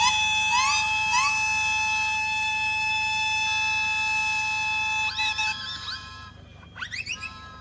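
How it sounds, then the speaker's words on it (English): A steam traction engine siren at a steam rally blows a long, loud, steady tone, then breaks into a few short warbling blasts and rising whoops before fading out. "But then you've got the fun sirens, which you can hear going off."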